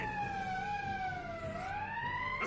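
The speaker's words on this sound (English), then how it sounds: "Somehow all the sirens in this game sound fairly goofy." A goofy-sounding alarm siren from the Valkyria Chronicles 4 video game wails steadily, its tone dipping slowly and then rising again, heard alone at moderate volume.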